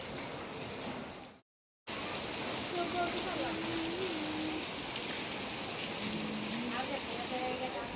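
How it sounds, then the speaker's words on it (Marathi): Steady rain falling, a dense wash of noise that cuts out briefly near the start, with faint tones and distant sounds mixed in. "पाऊस बघा किती तर पाऊस"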